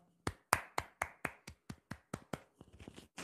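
Hands clap about a dozen times in a steady, even rhythm to close a live broadcast, each clap sharp and close, trailing off slightly softer toward the end.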